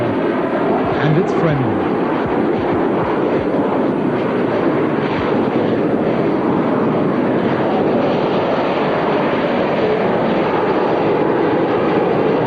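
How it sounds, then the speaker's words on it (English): A Harrier jet roars above an airshow crowd during a 1983 Formula One race in Central Europe, a broad, steady, loud rushing drone throughout, with someone talking over it. "Even in Central Europe, you just can't get away from the aircraft. But don't worry, it's a Harrier."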